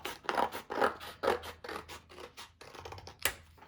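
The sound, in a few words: scissors cutting out paper for a dry erase calendar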